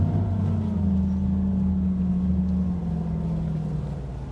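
A boat's engine, trimmed down, drones steadily at low pitch as the boat backs off its trailer at a launch ramp, a close, continuous hum with no talking, easing slightly toward the end.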